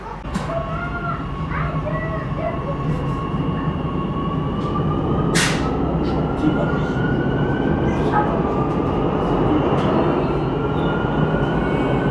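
Rack railway train climbing to the summit of the Puy de Dôme, with a loud steady rumble of wheels and motor, a rising whine and occasional squeals, heard from inside the carriage.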